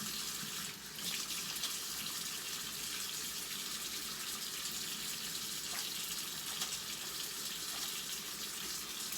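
Water runs from a kitchen tap into a sink while hands are washed, a steady close rushing stream lasting throughout with slight splashing variations.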